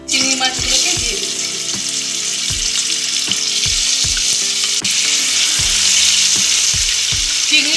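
Prawns dropped into hot mustard oil in a pan: a loud, close, continuous sizzling hiss with scattered scraping and clicking from stirring, running the whole time beneath faint tonal background sound.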